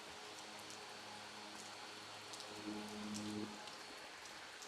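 Rain falls outdoors after a meal, a soft, steady, distant hiss of drops with no break, and a low hum rising briefly beneath it.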